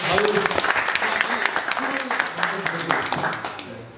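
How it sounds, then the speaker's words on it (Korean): An audience at a Korean talk show claps together for a designer guest, a lively burst of applause that gradually tapers off, with a voice speaking over it. "자, 우리 박수 한번 부탁드리겠습니다."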